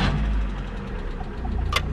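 Car engine idling close by during a Liqui Moly engine flush on an engine with a compression problem, a steady low rumble with a brief higher noise near the end.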